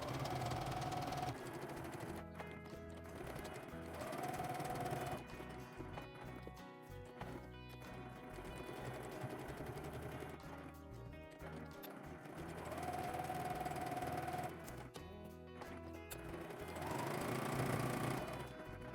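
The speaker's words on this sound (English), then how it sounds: "Now we top stitch this all around, then the top stitch will close this gap." A sewing machine runs in steady bursts while top stitching around the edge of a fabric sunglasses case, its rapid mechanical chatter continuous with brief pauses and a slightly louder stretch near the end.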